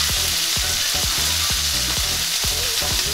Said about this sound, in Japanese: 強火にして炒めます。